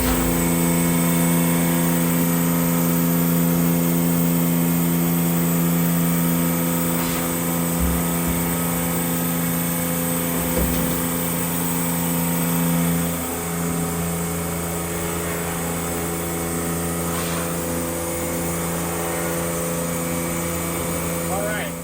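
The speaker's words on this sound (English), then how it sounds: "the Combi Eco. It's an automatic high pressure washer and image washout" An InPro Combi Eco automatic high-pressure screen washer and image washout machine runs with a steady, droning hum and a constant hiss of spray, holding level throughout.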